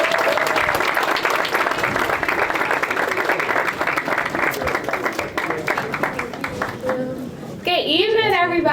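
Crowd at a formal ball applauding the event planner, a loud sustained clapping wash with voices mixed in, giving way near the end to music.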